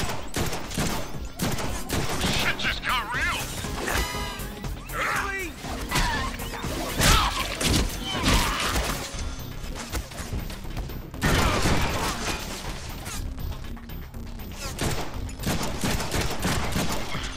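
Rapid bursts of gunfire in the Deadpool video game on PlayStation 4, loud and sustained automatic fire with clattering impacts and crashes, mixed under shouted character voices throughout.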